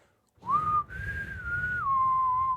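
A person whistles a short tune up close, a clear single tone in a few held notes with a brief gap after the first, stepping up and then down in pitch.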